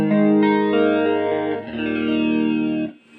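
Guitar played through an Ibanez Airplane Flanger AF2 pedal with the depth turned up, giving a deep, throaty sweeping flange over sustained chords that ring loudly for about three seconds before cutting off.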